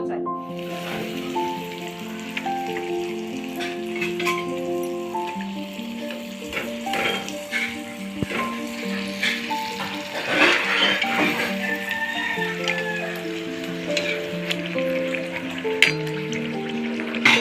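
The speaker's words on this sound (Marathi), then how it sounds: "आपण आता डायरेक्ट तळाला घेऊया" Anarse, traditional Marathi rice-flour sweets, deep-frying in oil, a continuous bubbling sizzle over a steady tonal hum, with faint background voices and occasional louder crackles.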